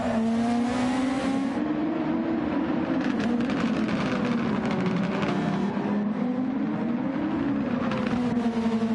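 Two Ferrari race cars lapping the Red Bull Ring in a racing video game, with continuous loud engine drone rising and falling in pitch through acceleration and gear shifts and no voices.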